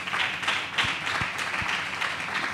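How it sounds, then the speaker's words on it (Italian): Audience applause for a young comedian on a podcast, a sustained patter of clapping hands at moderate loudness with a few sharper individual claps standing out, no voices. "Applauso alla nuova Iena Eleazaro Rossi."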